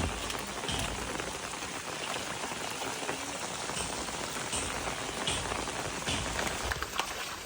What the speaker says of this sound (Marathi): पाऊस चालू झालो बघा